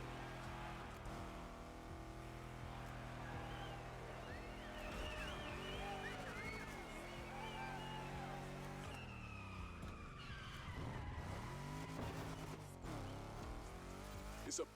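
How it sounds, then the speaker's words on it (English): Steady engine drone and tire noise from cars cruising in the racing video game The Crew Motorfest, set in Oahu, Hawaii, with shifting revs and occasional skids under a dense continuous mix that runs throughout. "Let's hear these engines."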